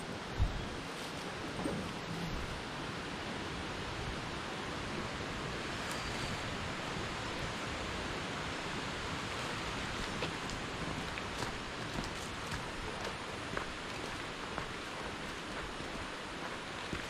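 A forest waterfall in the Cameron Highlands rushes with a steady, dense hiss of falling water, continuous and fairly close, with no voices over it.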